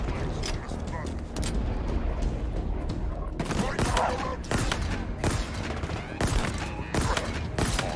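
Rapid gunfire in the video game Halo Infinite, bursts of shots and crackling volleys stacked over one another, loud and close, with a player talking over parts of it.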